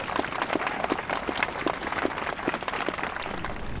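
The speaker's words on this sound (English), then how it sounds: "Let's give them a round of applause." A crowd applauds at the grand opening and dedication of a family justice center in Oklahoma City, with sustained, moderately loud clapping from many hands and a few sharper individual claps standing out in the steady mix.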